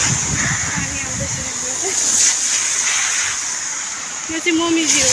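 Rainwater falling and running in a garden in Japan, a steady close hiss of splashing water with a voice speaking over it.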